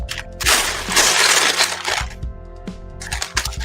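Handfuls of plastic LEGO pieces tossed onto a pile, giving dense rattling clatter in two bursts with scattered clicks between, close and fairly loud.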